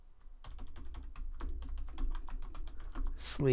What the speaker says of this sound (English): I can just type in here.